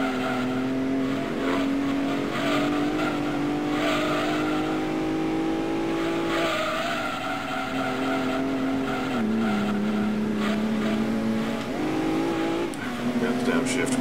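A race car engine in Gran Turismo 2 screams at high revs, with pitch dropping sharply on several downshifts before climbing again, loud and continuous throughout.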